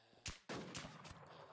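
Two sharp gunshots in the video game Infestation: The New Z crack in quick succession, the second followed by a brief echoing tail, loud and close with no talking.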